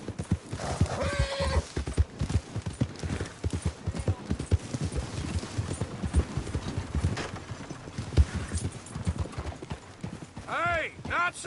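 Horse hooves clip-clopping in a quick steady rhythm with a neigh near the start and another at the end, under continuous talking voices.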